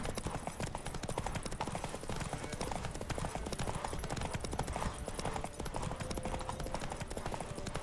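Roach the horse gallops in The Witcher 3, with steady, rapid hoofbeats drumming continuously under a dense layer of game music and ambience, loud and close throughout.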